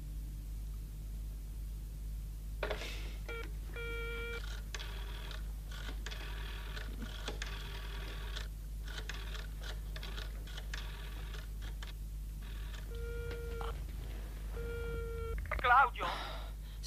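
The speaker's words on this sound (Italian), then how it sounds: "Grazie, posso fare una telefonata?" A telephone number is dialed on a keypad, with short evenly spaced tones in several bursts over a steady low hum and faint background noise.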